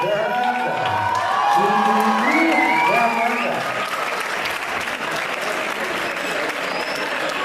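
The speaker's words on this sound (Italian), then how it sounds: "Rocco, venga a prendersi un altro applauso direttamente da Zelig" A theatre crowd at a Zelig comedy gala breaks into loud applause with cheers and whoops, rising over a sung or shouted voice at first, then settling into steady, dense clapping.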